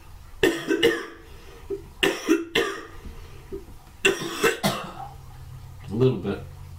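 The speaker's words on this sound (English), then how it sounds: "A little bit of cough." Several close coughs come in quick clusters, two or three at a time, with a short voiced sound near the end.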